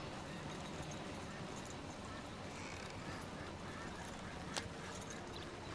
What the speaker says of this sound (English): A little faster, horse. You can do this.